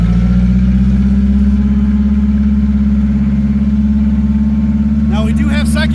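A Komatsu FG25 propane forklift with a Nissan engine rolling forward in first gear, its engine a steady, pulsing low hum heard close up, with a voice starting to speak near the end.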